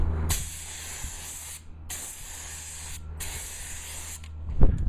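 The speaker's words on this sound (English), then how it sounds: "we're going to do another spray layer really quick" A cheap Harbor Freight spray gun lays down a layer of fiberglass, giving three long, loud, even hissing bursts separated by short pauses over a low steady hum, ending with a dull knock.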